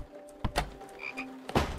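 A frog croaks in the video game House, giving two short, rough croaks about a second apart, heard close and alone against a quiet background.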